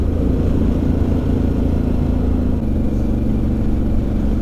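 A Harley-Davidson Pan America motorcycle engine running steadily at about 3,000 rpm on the road, a loud, close, continuous droning rumble with a slight shift in pitch partway through and no talking.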